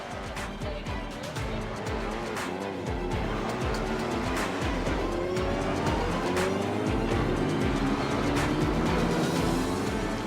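Formula 1600 single-seater race cars racing in round 3 of the MSA Extreme Festival 2024: high-revving engines scream past in quick succession, upshifting and overlapping, with a commentator's voice underneath.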